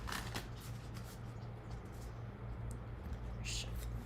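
Tarot cards shuffled close by in quiet, repeated papery riffles and light flicks over a steady low hum, with a few sharper snaps of cards near the start and end.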